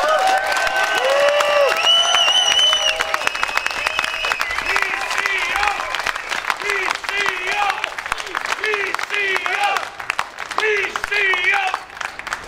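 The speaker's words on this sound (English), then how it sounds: "Let's give them a huge cheer." A rally crowd at a CP Rail back-to-work rally cheers and applauds the Teamsters, steady dense clapping and cheering that carries on while a speaker's voice talks over it.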